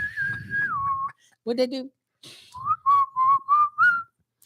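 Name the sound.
person imitating a whistle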